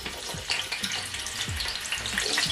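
Chopped onion sizzling and frying in a large pot for a 10 kg batch of Nigerian party jollof rice, a steady crackling hiss with soft stirring scrapes throughout, close and alone.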